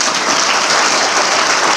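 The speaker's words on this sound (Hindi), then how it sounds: "जोरदार तालियां" Loud, steady applause from an audience at a government senior secondary school event during a school bag distribution, a continuous dense wash of clapping with no talk.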